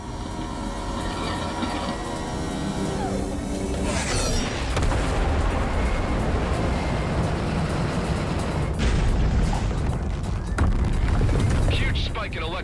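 Sustained heavy rumbling weapon fire and deep booming blasts aimed at a carrier during a space battle in the game EverSpace 2, dense and continuous with swelling impacts and no speech.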